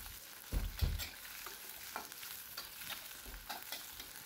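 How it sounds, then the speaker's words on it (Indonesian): Sliced shallots and garlic are sautéed in a pan with galangal, pandan and lime leaves, a soft continuous sizzle broken by repeated scraping stirs of the utensil, close and moderately quiet. "Kita tumis sampai berbau harum."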